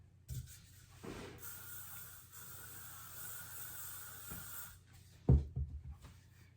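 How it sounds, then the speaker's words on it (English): Hairspray is sprayed from underneath onto curled hair in a quiet room, a few soft hissing bursts of varying length with a louder, closer spray near the end. "I'll flip my head upside down and spray it from underneath"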